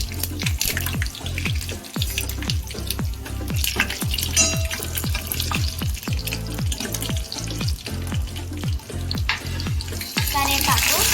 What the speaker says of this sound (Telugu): ఎండుమిర్చి వేయాలి